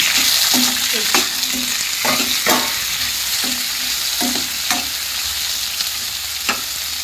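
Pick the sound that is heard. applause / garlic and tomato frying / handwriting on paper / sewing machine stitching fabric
garlic and tomato frying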